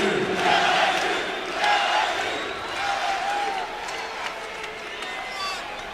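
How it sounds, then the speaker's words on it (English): A purple-clad home crowd at an LSU basketball NIT game against UL-Lafayette cheers and applauds in a broad, sustained roar that gradually eases, with a commentator talking over it. "this crowd, or at least the purple-clad crowd, is appreciative of the effort"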